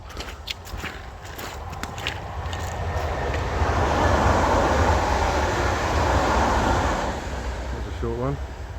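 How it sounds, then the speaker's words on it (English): A train rumbles past on a line near a New Forest walking path, a broad roar swelling from a distance to a loud peak and fading away, with footsteps and people talking early on. "Oh, there's a train coming."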